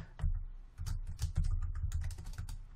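Quick burst of typing on a computer keyboard, close and clear, a rapid run of key clicks entering a folder name with a short pause near the start.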